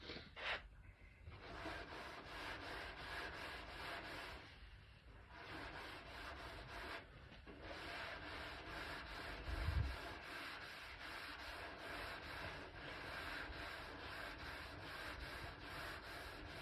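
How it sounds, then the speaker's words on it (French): A sanding block rubs by hand across a surface being prepared before painting, making soft, repeated rasping strokes in a steady back-and-forth rhythm with brief pauses between passes, close and fairly quiet. "Donc ça sèche et on remet un petit coup de cale."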